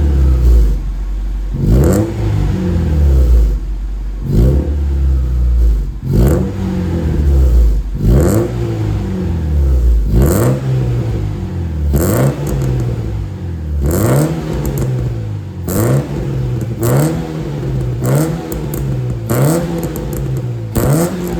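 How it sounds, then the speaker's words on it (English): A car engine revs repeatedly, each rev rising sharply and falling back to a rumbling idle, close and loud, in a steady rhythm. "we'll let it warm up and then we'll give it some revs"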